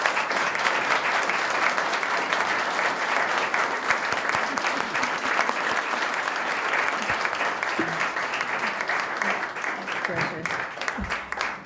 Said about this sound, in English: now I will lift my ban on applause as we thank the candidates for their answers